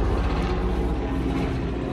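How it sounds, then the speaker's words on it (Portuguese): A helicopter passes overhead outdoors near an orchid nursery, a loud, steady low rumble and whir that stays constant throughout with no talking. "Passando o helicóptero aqui."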